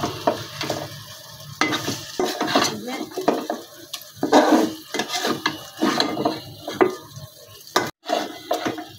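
Chicken meat being sautéed with spices in a pan, loud close stirring and scraping of a spatula against metal over a hissing sizzle, in irregular bursts with no talking.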